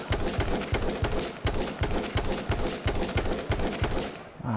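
Rapid bursts of automatic gunfire in the video game H1Z1, sharp repeated shots in a steady rhythm, loud and close, with no talking.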